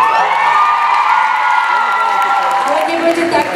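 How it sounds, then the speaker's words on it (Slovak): Audience at a K-pop showcase applauds and cheers loudly and steadily, whoops and shouts rising over a dense, continuous wash of clapping throughout. "takže veľký potlesk, Joty!"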